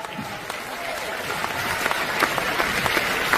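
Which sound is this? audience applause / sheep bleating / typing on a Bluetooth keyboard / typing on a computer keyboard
audience applause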